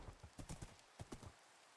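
A horse's hooves clip-clop at a brisk trot in the Minecraft video game, a quick run of light, close hoofbeats that stops partway through.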